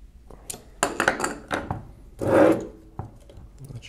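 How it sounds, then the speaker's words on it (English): A wrench tightening a nut on a 1920s Monroe Model K mechanical calculator: close, dry metallic scraping and several short clicks, with a broader grinding rasp in the middle, alone and without talk. "I'm going to need to have something holding on to the nut while I tighten this up."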